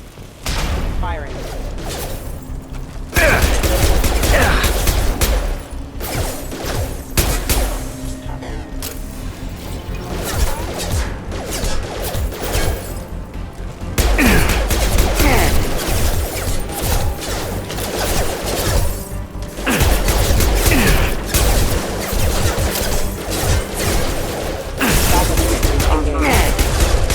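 Security mechs in Mass Effect 2 fire repeatedly, with dense, loud gunfire bursts, booms and mechanical clatter running almost nonstop. Voices speak intermittently under the combat.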